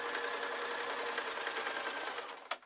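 Sewing machine stitching flannelette fabric for a crayon roll, a steady close whirring run that stops abruptly near the end with a short clack.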